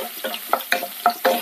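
Mustard and fenugreek seeds crackle in hot oil over a low flame, with a run of small irregular pops and spits over a soft frying hiss, close by.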